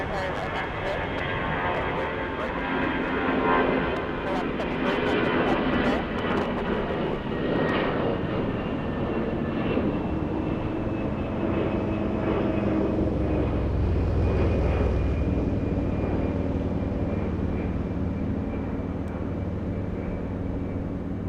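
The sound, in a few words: jet airliner taking off at Atlanta Hartsfield-Jackson airport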